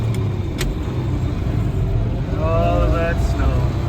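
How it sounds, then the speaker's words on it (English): A tractor engine labours steadily while driving through a deep snowbank, a close low drone that rises slightly toward the end under a man's speech. "I better drop a gear so I don't blow my tractor up"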